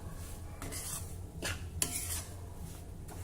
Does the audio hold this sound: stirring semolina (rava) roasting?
yes